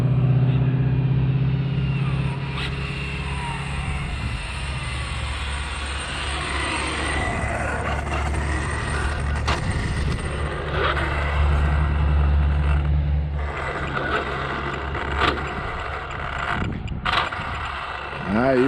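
An Arrma Infraction RC car makes a drag speed run: a steady, rough mechanical rush with whining overtones runs through most of the stretch, fairly loud and continuous, with faint outdoor background beneath it.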